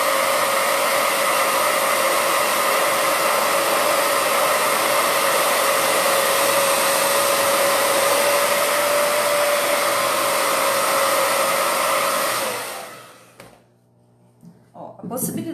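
A hair dryer blows a loud, steady whir while drying colored patina paint made with PVA on wooden crates. It runs continuously for about twelve seconds, then switches off and winds down.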